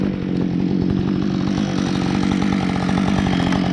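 A chainsaw roars steadily and loudly up close, its motor chugging evenly as it bites through a log while clearing a creek path, with no pauses.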